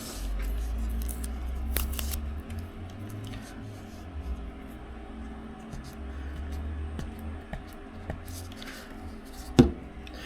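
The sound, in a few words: unwinding electrical tape off a badminton racket grip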